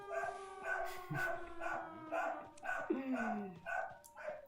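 A dog barks and howls repeatedly in drawn-out, tonal yelps at a moderate distance, the calls rising and falling in an uneven rhythm.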